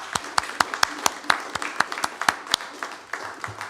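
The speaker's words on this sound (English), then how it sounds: "How about we get one more round of applause for Laura Jane Vincent" A live studio audience at a WDVX Blue Plate Special radio show gives a round of applause, sharp distinct claps from a small crowd, rhythmic and moderately close, tapering off toward the end.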